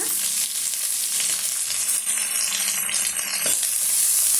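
Onions, dried red chillies and curry leaves sizzle and crackle steadily in a hot pan for a banana stem poriyal, a dense continuous frying hiss with occasional stirring scrapes, close and fairly loud with no voices.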